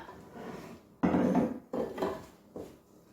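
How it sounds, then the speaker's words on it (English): A spoon stirs flour and salt into chocolate chip cookie dough in a mixing bowl, giving dull scraping and knocking strokes in several close bursts with short pauses between. "we're just going to stir this round just to combine it all together"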